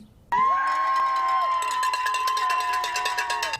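A crowd greets a student outside her house with a loud cheer, high shouts and whoops bursting in suddenly and holding strong, with children's voices prominent and some clapping toward the end.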